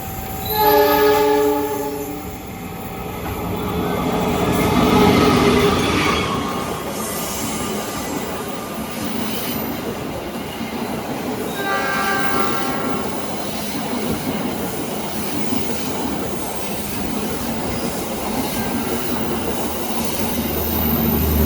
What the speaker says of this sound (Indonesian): Baru saja melintas langsung kereta api Lodaya dari Bandung,